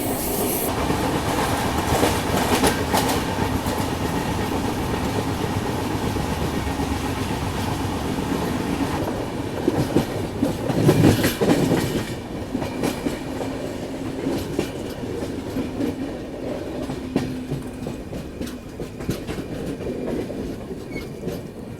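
The Andhra Pradesh Express pulling into Vijayawada at night, with steady wheel rumble, rhythmic clickety-clack over rail joints and faint squeals, heard from on board with no talking.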